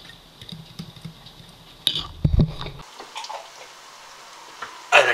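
Eggs being mixed in a bowl for scrambled eggs: sparse, close clinks and taps of a utensil against the bowl, with a louder clatter near the start and end, and no speech.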